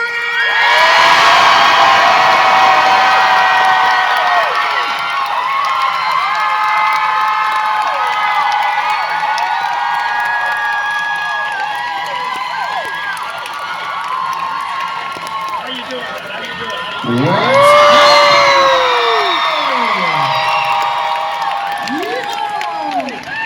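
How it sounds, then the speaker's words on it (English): A large audience at a Tampa horror fan convention's comedy show cheers, screams and whoops for a horror film cast, loud and sustained throughout, with a fresh surge of shrieks near the end. "Why don't you guys scream your freaking heads off for the cast of Scream!"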